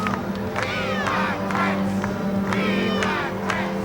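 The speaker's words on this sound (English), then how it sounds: "You can hear behind me the chant of "We want Fritz."" Crowd at Walter Mondale's 1984 election-night rally in Minnesota chants in steady repeated bursts of about two per second, loud and close, with cheering and scattered shouts mixed in.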